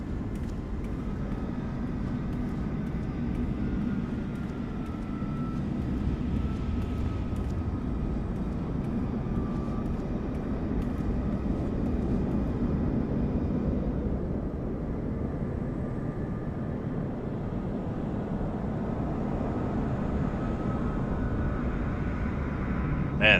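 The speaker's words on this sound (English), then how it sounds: "Look how loud it is here. What's it, a Dreamliner?" Airliners at LAX airport at night produce a continuous low roar of jet engines that stays steady and moderately loud throughout.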